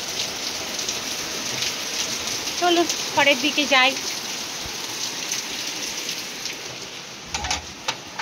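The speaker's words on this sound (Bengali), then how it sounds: "এই সময়তে কি বৃষ্টি, বাপরে বাপ, প্রচণ্ড বৃষ্টি।" Heavy rain pours steadily close by in a constant hiss, and a person speaks briefly partway through.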